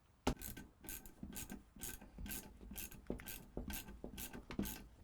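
A diesel heater fuel pump is bolted to a leg on a canal narrowboat, with close, steady rhythmic rasping ratchet strokes, about a dozen in quick succession.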